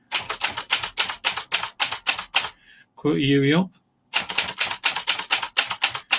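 Rapid typewriter keystrokes clatter in a steady, loud, close rhythm, pausing briefly while someone speaks, then resuming with another quick run of clacks.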